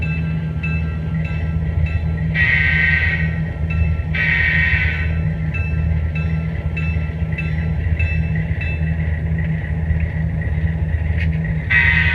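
A model train runs steadily around a tabletop layout with a continuous rolling rumble and hum. Brief brighter tones rise over the drone several times, with no talking.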